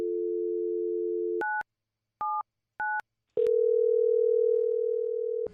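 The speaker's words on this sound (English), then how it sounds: "Is this the table that ordered dial tone?" A steady telephone dial tone, then a few short two-tone dialing beeps separated by gaps, followed by a different continuous tone.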